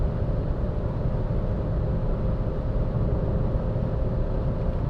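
A Renault Clio 5 with the 1.0 SCe engine accelerates at full throttle uphill, giving a steady, loud interior drone of engine and road rumble with no pauses.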